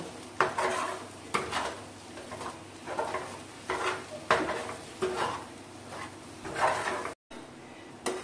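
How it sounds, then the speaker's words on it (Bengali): Pointed gourd with chili powder, pickle and spices is stirred in a pan, the spoon scraping in a steady rhythm of repeated strokes against the metal over a soft, faint sizzle. "এটাকে ভালো করে ভেজে নেব আমি। এবার একটু কষিয়ে নেব।"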